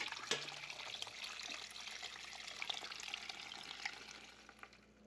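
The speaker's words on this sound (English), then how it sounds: "I'm gonna take my crock pot with the towel because it's warm and just pour into here" Warm rendered beef tallow is poured from a crock pot through a strainer, a soft steady liquid trickle with a light clunk at the start, fading gradually toward the end.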